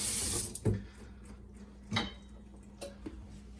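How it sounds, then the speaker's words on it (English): Water runs from a tap at first as hands are rinsed of sticky biscuit dough, then stops, followed by a few soft knocks and clicks nearby, no voices. "A little bit of rinse here, just to get the gooiness back off your hands"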